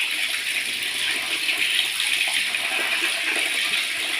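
Water pours in a steady, continuous stream from a cow-mouth spout at the ancient sacred site of Pongezara, a close, even rushing with no breaks and no voices.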